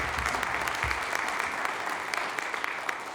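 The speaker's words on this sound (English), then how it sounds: "Let's have a nice round of applause for these current members of the Fairmont Athletic Hall of Fame." A crowd applauds current members of an athletic hall of fame at an induction ceremony, a dense, even wash of clapping heard from some distance, fairly soft and sustained throughout.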